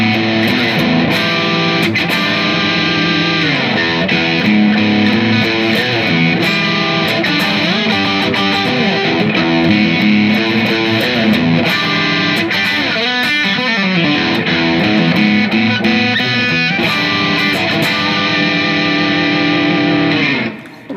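A distorted electric guitar plays the main riff of a song, with a steady, continuous, loud driving line of repeated bluesy notes and no talking.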